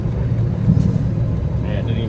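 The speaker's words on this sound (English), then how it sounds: "hold on, let me downshift" A car engine drops a gear as the driver downshifts, a low close rumble holding steady under the cabin, with a brief brake-like hiss near the end and a voice speaking over it.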